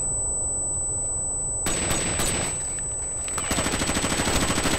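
Video game gunfire comes in bursts of rapid, loud shots, with a steady machine-gun-like rattle toward the end over continuous game noise.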